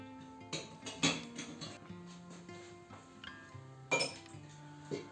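Light clinks of a spoon against glass while stirring dry yeast and flour, several taps at uneven intervals, close by over quiet background music.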